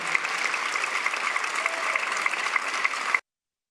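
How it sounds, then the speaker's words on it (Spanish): Deputies in the Argentine Chamber of Deputies stand at their seats and applaud toward the galleries after a vote, with steady, evenly sustained clapping that cuts off abruptly. "Ahí veíamos a los diputados parándose en sus bancas y aplaudiendo hacia los palcos."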